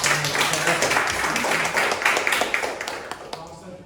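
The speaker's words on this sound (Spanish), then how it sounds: "un fuerte aplauso para Mario." Applause from a talk audience, a dense patter of clapping that fades gradually over several seconds, with faint voices underneath.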